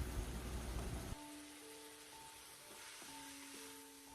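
Rice roasting in a pan with ghee makes a loud, crackling sizzle for about a second, then cuts off abruptly, leaving quiet sustained background tones.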